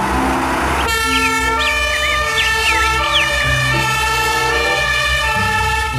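A toy fire truck sounds its electronic siren: after a brief rustle, a loud steady tone with warbling whoops and horn-like blasts carries on close by, with no one speaking.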